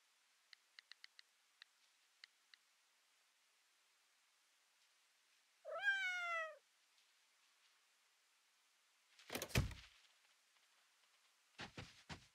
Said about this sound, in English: Like, I hear you, kitty.